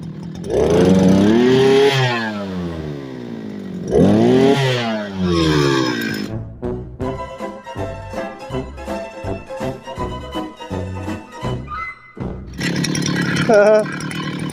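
Petrol brushcutter fitted with a cultivator attachment tilling soil, loud two-stroke engine revving up twice, then choppy labouring bursts as the tines dig in, with another rev at the end.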